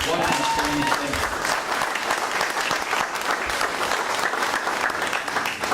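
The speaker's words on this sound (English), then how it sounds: "Let's give them another round of applause" A crowd at a high school event celebrating students' contact with the International Space Station gives a steady round of applause, with thick, continuous clapping and faint voices mixed in.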